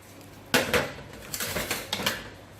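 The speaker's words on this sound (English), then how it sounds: "we're going to add in our butter into a large bowl" Butter is dropped into a large baking bowl with a sharp clatter, followed by lighter clinks and scrapes of utensils against the bowl, close and clear with no talking.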